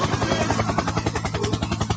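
A helicopter's rotor chops loudly in a steady rapid beat, with a continuous engine roar underneath.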